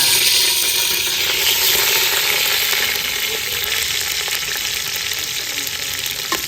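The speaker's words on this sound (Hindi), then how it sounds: "घी हमारा गर्म हो चुका है। इसमें हम चिकन ऐड कर रहे हैं।" Chicken pieces frying in hot ghee, a loud, close, continuous sizzle and crackle that holds steady and fades very slightly, with no talk over it.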